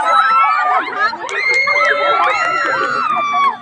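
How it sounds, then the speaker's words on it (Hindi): Children shouting and cheering together as a lively group in Bihar, loud and sustained for the whole stretch with overlapping high voices rising and falling. "कुछ अभी चिल्लाओ ना।"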